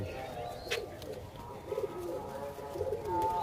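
Pigeons in a loft coo softly in short repeated phrases, fairly faint against a low background murmur, with a brief higher chirp near the start.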